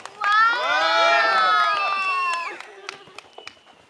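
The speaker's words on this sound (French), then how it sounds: "On peut l'applaudir." Wrestling audience at an amateur show cheers and applauds the referee, a loud sustained burst of shouting and whooping voices with scattered claps that fades out after a couple of seconds.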